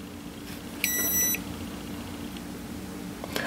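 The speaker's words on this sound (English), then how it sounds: "once you hear that beep, that means we're getting wireless charging" A single short electronic beep sounds once against a low background hum, close and clear.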